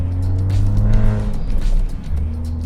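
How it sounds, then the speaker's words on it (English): A Honda Civic Type R FD2 engine pulls under load inside the cabin, with a rising whoosh of turbo spool layered over the low exhaust drone. "turbo spool out of the exhaust too"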